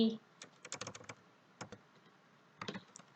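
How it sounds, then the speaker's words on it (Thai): An answer is typed on a computer keyboard in bursts of quick, close key clicks separated by short pauses, clear and without speech. "หลังจากที่เรา คีย์คำตอบเสร็จแล้วนะคะ"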